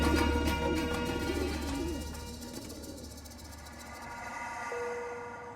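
Pigeons cooing from rooftop pigeon towers in Cairo, a steady low murmur of many birds close by with a continuous hum of city background throughout.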